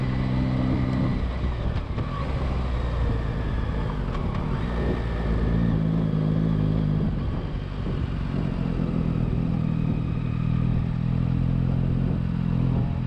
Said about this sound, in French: Le son du moteur, vraiment c'est incroyable, faut l'entendre